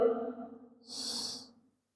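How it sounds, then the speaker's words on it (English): A long, deep breath during Kundalini yoga practice: a slow inhale followed by a breathy, hissing exhale, close and quiet, with no talk. "Long, deep breathing here."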